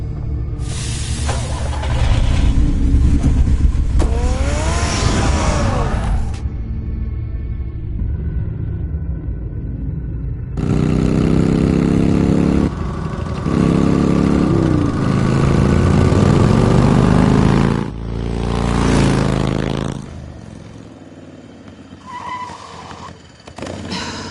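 A car engine from Batman The Telltale Series drives in loud, rumbling stretches, revving and shifting between bursts with brief quieter gaps, no talk over it.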